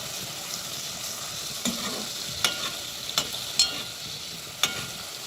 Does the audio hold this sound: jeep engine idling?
no